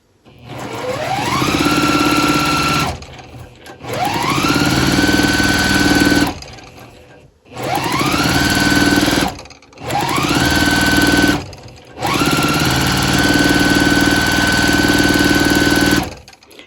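A sewing machine stitches quilt pieces with a quarter-inch seam in several loud, steady runs of rapid whirring, each winding up at the start and stopping abruptly, with brief silent gaps between them and no talk.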